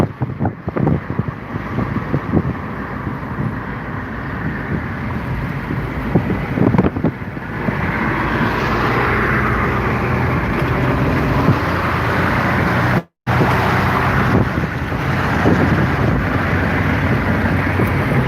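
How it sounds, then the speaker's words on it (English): A Chevrolet Astro van driving along a road to a park, with loud wind buffeting and road roar throughout, a steady engine drone, and a brief cut partway through. "Feel that horsepower of the Astro van?"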